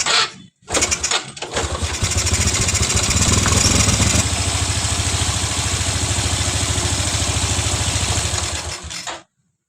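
Rebuilt Honda Revo Absolute motorcycle engine, repaired after a broken oil pump gear, cranks and catches, then settles into a steady, loud, close idle with a rapid even putter that runs until it is switched off.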